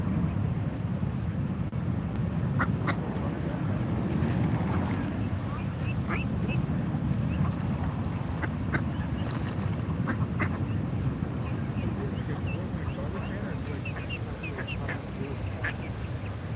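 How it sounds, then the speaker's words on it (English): Baby ducks quack in faint, scattered peeps outdoors at a Washington DC protest, under steady wind and broadband crowd rumble. "Hey, baby ducks."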